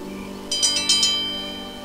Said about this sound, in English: Let me give this bell a ring and see if anybody's home.